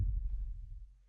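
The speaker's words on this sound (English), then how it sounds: "Love the slow heartbeat sounds" A slow heartbeat sound effect from Breaking Bad, a deep, muffled low thump fading away over a second, quiet and alone.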